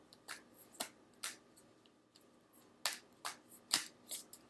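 Tarot cards are shuffled close by in short, crisp riffling bursts, about eight in two uneven clusters, with quiet gaps between them.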